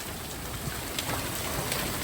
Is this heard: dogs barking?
no